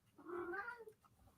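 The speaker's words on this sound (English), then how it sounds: "Don't come up over here meowing." A house cat lets out a single drawn-out meow, nearby and clear, lasting under a second against a quiet background.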